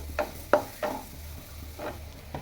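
A spoon stirs a milk mixture with cardamom in a pan for a Bengali dudh puli dish, giving five soft, separate scraping knocks spaced irregularly over a low background hum.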